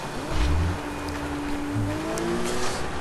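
A car is driven in Sleeping Dogs, its engine humming steadily with a rising drone close by, plus a couple of low thumps early on and no talk.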